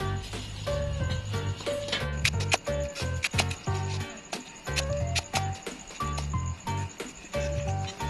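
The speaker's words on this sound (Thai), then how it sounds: "ตามด้วยหั่นสาระแหน่นะครับน้อง" Quick clusters of sharp knife strikes on a board as mint leaves are chopped, pausing now and then, with music playing underneath.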